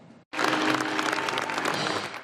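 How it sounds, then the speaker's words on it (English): A room of people applauding 13-year-old Caden, a dense burst of clapping that starts abruptly after a brief pause and carries on steadily, fairly loud and close, with no talk over it. "A room filled with applause for 13-year-old Caden."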